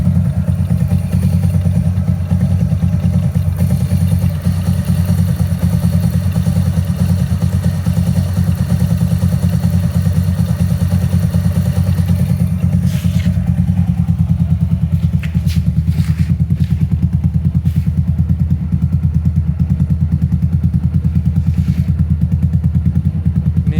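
A Kawasaki Edge motorcycle, fifteen years in use and slightly smoky, idles steadily and loud for the whole stretch with a constant low engine drone, while a few light clicks and clatters are scattered through the second half.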